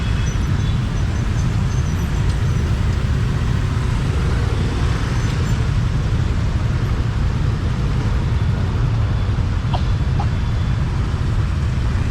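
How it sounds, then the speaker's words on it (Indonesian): Busy morning traffic jam in Ho Chi Minh City, a dense, continuous roar of motorbike and car engines close by, steady and unbroken, with faint horn-like tones now and then. "Sampai macet-macet."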